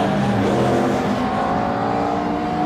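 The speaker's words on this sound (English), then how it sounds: "there's your race leader just coming into shot at the minute in that Ford Falcon" A Ford Falcon race car at Brands Hatch, car number 77 leading the race, drives past with a loud sustained engine roar and a rising engine note, heard alone and close throughout.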